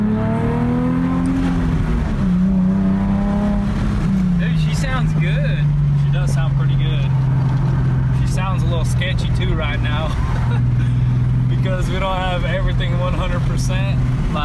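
Auction drift car engine running while driving: a steady close engine drone with a rising and settling pitch early on, sustained throughout, with people talking over it.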